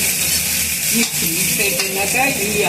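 Potatoes stirred and fried in a pan give a continuous close sizzle with scraping spoon strokes running through it, and no talking.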